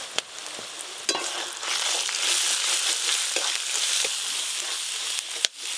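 Ginger, garlic and onion with spices sizzle in hot oil for a mutton curry, a steady loud frying crackle with a few sharp clatters of stirring near the start and end.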